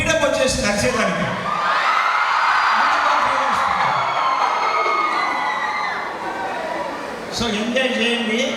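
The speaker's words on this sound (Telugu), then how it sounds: "మా కాలేజీలో ఇట్లా అరుపులు, కేకలు, ఈలలు పనికిరావు" College students at a silver jubilee celebration shout, scream and whistle loudly as a crowd, a sustained roar of cheering and whoops that rises and dips over several seconds.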